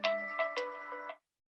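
A mobile phone ringtone chimes in a short melodic run of bright tones during a church worship service, ringing for about a second before it is cut off into silence.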